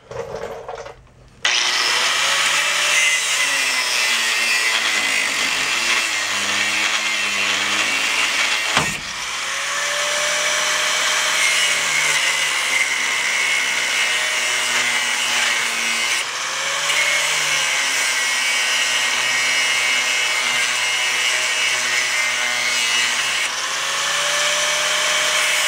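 A power tool cuts through a broken steel leaf spring from a car or truck, a loud, harsh, sustained grinding whine that starts abruptly, briefly dips and shifts in pitch, and runs on close and unbroken.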